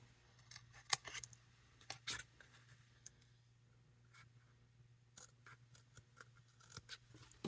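Scissors trim excess paper from a stamped craft project, a few quiet close snips and rustles scattered irregularly over a faint background hum.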